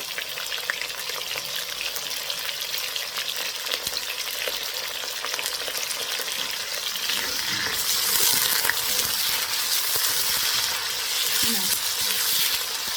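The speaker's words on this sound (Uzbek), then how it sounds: "İkisini birgalikda qovuramiz." Onion and vegetables fry together in a pan for macaroni shurva, a dense, continuous sizzle with crackling and occasional stirring scrapes, steady and close throughout, swelling slightly louder in the second half.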